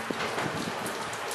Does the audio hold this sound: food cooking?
no